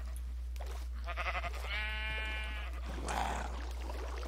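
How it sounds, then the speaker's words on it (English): Sheep bleating in Minecraft, a couple of wavering, quavering bleats of moderate loudness over a steady low hum. "Oh, wait, no, that's a sheep."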